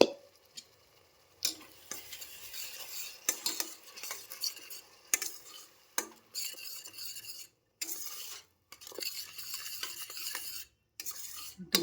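Onions sautéing in a pan while being stirred, with bursts of scraping and clattering utensil strokes over a light sizzle, separated by brief quiet pauses.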